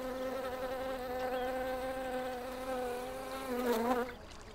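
A steady, close buzz of bees by a mountain stream in Turkey holds a droning pitch throughout, wavering and dipping briefly near the end before fading slightly.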